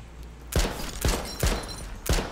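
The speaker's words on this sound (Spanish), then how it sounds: "¿Están disparando?" Four sharp gunshots crack out in the H1Z1 battle royale video game, spaced about half a second apart, each with a short decaying tail over a low background.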